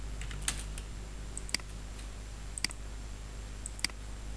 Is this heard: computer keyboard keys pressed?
yes